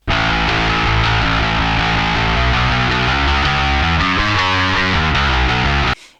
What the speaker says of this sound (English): Ever wondered what a bass guitar sounds like through a distorted guitar amp?